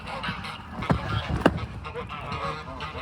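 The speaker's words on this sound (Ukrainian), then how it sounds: "гусі дорогу переходять!" Geese crossing a street in the Netherlands give loud, close honks, two sharp calls standing out over a busy outdoor background with a little talking.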